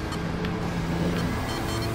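Steady, droning Porsche engine from the racing game Gran Turismo 7, held at a constant pitch on a narrow track, loud and continuous with no talking.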